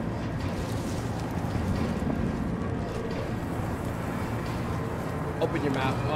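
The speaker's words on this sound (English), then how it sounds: "Why is it so windy?" Steady wind blows as a constant low rushing noise in the Silent Hill 2 Remake video game, continuing beneath people talking.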